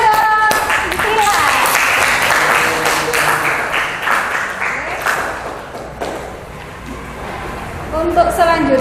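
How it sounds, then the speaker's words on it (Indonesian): A classroom of students claps for a classmate after a lesson on electromagnetic wave radiation, loud close applause lasting several seconds with voices heard over and between the claps. "Tepuk tangan untuk Sila."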